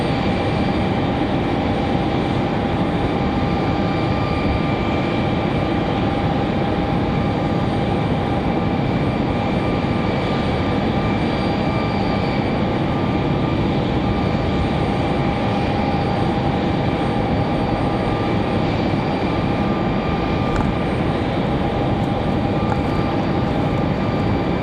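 Aircraft engine drone at the far end of a runway at Raleigh-Durham International Airport, a steady, loud, continuous roar with sustained tonal whine throughout, no talking.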